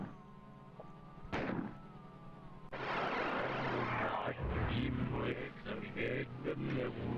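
A rocket launcher fires in Doom II on Xbox, a sharp launch bang followed by a loud, rumbling blast that lingers over repeated thuds and game noise, with no talk.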